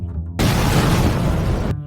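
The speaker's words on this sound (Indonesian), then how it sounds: "Ledakan yang cukup keras sehingga menyebabkan kebakaran." A sudden loud blast of broadband noise from an explosion that started a fire, lasting over a second, then cutting off, over a low steady hum.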